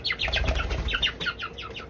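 Birds being handled for vent sexing beat their wings in a rapid series of close, fluttering flaps, with several short bursts packed into two seconds.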